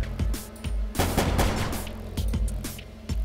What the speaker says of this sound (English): he is going to take a couple of shots. Now let's go auto fire all the way.